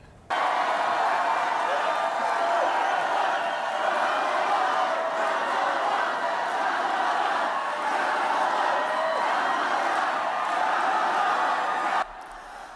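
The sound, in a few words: crowd chanting Harris's name at a Wisconsin rally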